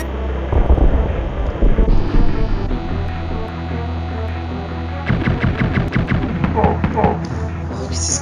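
Gunshots in the video game Blackthorne, a series of punchy game blasts in quick succession amid loud game audio and music, with someone talking over them.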